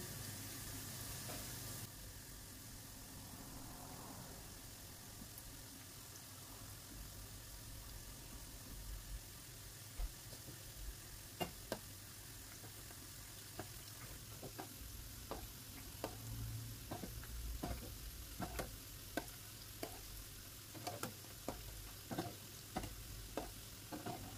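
Mini donuts sizzle gently in hot oil over low-medium heat, a soft steady frying hiss with scattered light pops and clicks, fairly quiet, with no talking.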